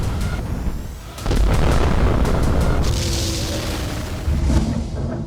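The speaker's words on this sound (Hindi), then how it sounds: "मिसाइलों और बमों की आवाज थमने का नाम नहीं ले रही" Missile and bomb explosions from Israeli and American strikes on Iranian strategic sites: heavy, loud booming blasts and rumbling that roll on without pause, with no talk.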